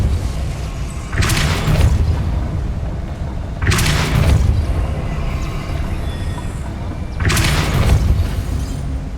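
The Depulso spell in Hogwarts Legacy fires three times, each cast a loud, sudden boom-like whoosh that decays slowly into a rumbling tail, evenly spaced a few seconds apart.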